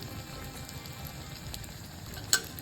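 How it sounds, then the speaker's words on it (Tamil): Mullu murungai vadai fry in hot oil with a steady, soft sizzle and fine crackle, close and continuous, capped by one sharp pop near the end. "நல்ல சூடான எண்ணெயில் திரட்டி வச்சுருக்க வடையை போட்டிங்கன்னா நல்லா வெந்து அதுவே உப்பி வரும்"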